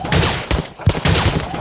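Rapid bursts of gunfire from a virtual reality shooting game, Gun Club VR, played on an Oculus Quest 2: several loud, close volleys in quick succession with brief gaps between them.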